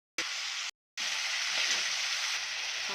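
Washed, crushed potatoes hit a pan of onions with a bright, close sizzle that stops for a moment, then comes back and hisses on steadily as they sauté.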